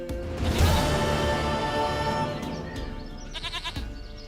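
A goat in a video game lets out a short, trembling bleat near the end, after a loud, ringing burst of game sound that slowly fades.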